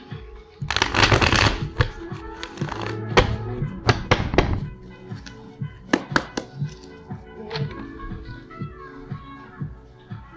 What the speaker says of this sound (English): As I split the deck